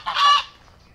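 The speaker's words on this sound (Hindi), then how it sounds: "बतख भी काफी तादाद में आते हैं." A single loud, nasal honk from a duck or goose rings out close by in a garden in Madina, lasting about a third of a second before fading into quiet.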